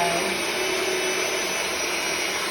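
Electric mixer running on its slow setting through birthday cake batter with oil added, a steady whirring motor drone that holds close and constant throughout, with no talk over it.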